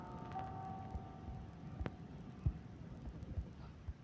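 A slow, low heartbeat thuds from the Granny video game, several soft, evenly spaced pulses over a quiet hum, with a faint sustained tone early on.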